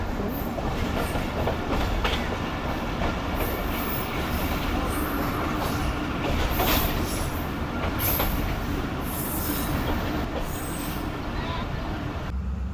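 Shalimar Express passenger train running behind the locomotive, a loud continuous rumble of wheels on rails with clickety-clack and occasional squeals, and some voices in the carriage.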